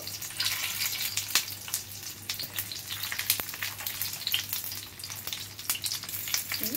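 Banana-leaf-wrapped murola fish paturi fries in hot oil, giving a continuous close crackling sizzle dotted with frequent sharp pops and spits, with no speech.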